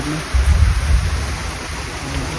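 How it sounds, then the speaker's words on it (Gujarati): Heavy rain pours steadily as a broad, even hiss with a low rumbling undertone, fairly loud and continuous from start to finish. "એક નંબર ફૂલ જ વરસાદ આવી ગયો"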